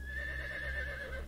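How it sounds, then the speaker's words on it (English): A horse neighs in a single sustained whinny, close and fairly loud, with a steady, slightly wavering pitch and no voices around it. "Horse,"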